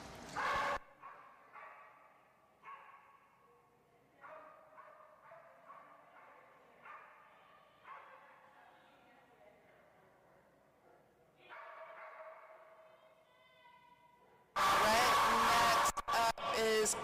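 A cattle dog at a dock jumping event lets out a string of short, repeated yips and barks, some in quick clusters, moderately distant over quiet background, before a sudden loud burst of crowd noise at the end.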